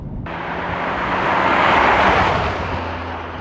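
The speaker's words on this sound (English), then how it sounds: "So we're in the F82 M4." Steady, loud broadband rush of a BMW F82 M4 coupe on the move, heard from inside the cabin, with engine drone and road and wind noise swelling slightly mid-way and holding without a break.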